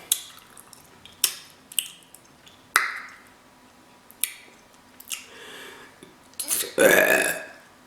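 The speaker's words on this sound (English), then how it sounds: "Excuse me, that was a baby burp." A single loud, close burp rumbles out during a burrito-eating mukbang, following a few sharp wet chewing clicks and smacks.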